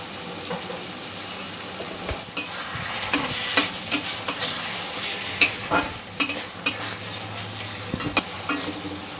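A spoon stirs okra curry with potatoes and yogurt in a pan, making soft scraping taps and clicks at an irregular pace over a low, gentle sizzle, close and fairly quiet with no talk.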